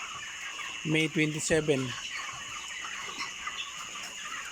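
Broiler chickens about 28 days old clucking on a farm at 10 pm, a short burst of several close clucks early on, with a voice speaking nearby and a faint background hum.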